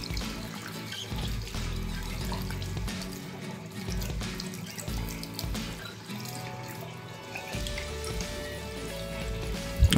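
Water splashes and streams steadily onto an Honor X9a 5G smartphone, like a running tap pouring over glass and plastic, continuous and close for the whole stretch, with no voices.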